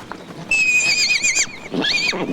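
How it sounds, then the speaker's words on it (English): Polo, a miniature Shetland pony, neighs twice, close and loud: a long, quavering whinny followed by a shorter, rising second call. "His pint-sized pal is Polo, a miniature Shetland pony"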